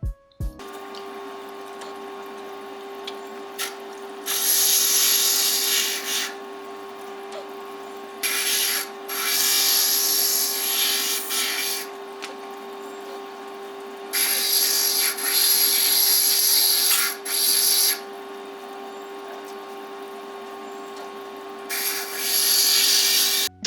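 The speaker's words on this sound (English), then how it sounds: "the edges are really rough here, so that's why the next step is grinding" Rough edges of stained glass pieces are ground in bursts of harsh, loud rasping that start and stop several times, over a steady machine hum with a constant tone, close up and without talk.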